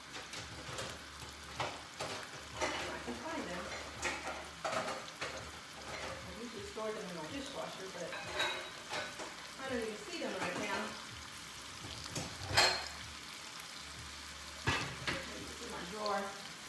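Short ribs browning in a pan for a crockpot recipe, a steady sizzle and fry running throughout with occasional clatter of tongs, while a person talks over it.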